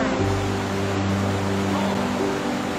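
Floodwater from a flash flood in Marshall, North Carolina rushes past in a loud, continuous broadband roar, steady and unbroken throughout with no voices.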